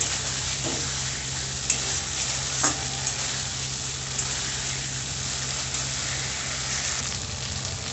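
Bam eel pieces fry in oil while being stirred in a pan, producing a steady close sizzle with occasional scraping and clicking from the utensil, no talk.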